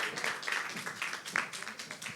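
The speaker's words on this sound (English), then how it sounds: "Another round of applause for Chioma, please, as she gets off the stage" Brief burst of audience clapping at a music masterclass as the speaker leaves the stage, a moderate scatter of hands heard in a room for a couple of seconds.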